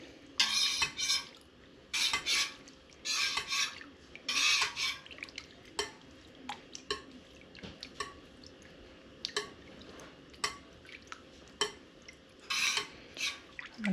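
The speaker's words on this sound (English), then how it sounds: "I'm going to take this whisk and swirl it around just a little to help break up anything a little bit bigger" A whisk stirring fresh cheese curds in a pot of whey for queso fresco, with intermittent watery swishes and light clinks in irregular bursts.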